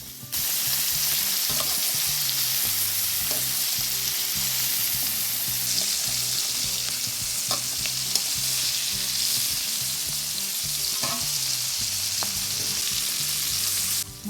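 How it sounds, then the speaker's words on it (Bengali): Marinated prawns fry in a pan with a loud, steady sizzle and crackle that runs almost the whole way, with occasional sharper pops and a few soft scrapes of turning, no talking. "এবার এক এক করে আমি মাছগুলোকে উল্টে দিচ্ছি।"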